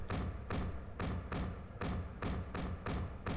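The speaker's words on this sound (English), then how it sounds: "They'll manage to bang through the doors finally." Heavy doors in Star Wars: Knights of the Old Republic are pounded repeatedly, a steady series of about eight dull, booming thuds spaced roughly half a second apart, muffled and resonant.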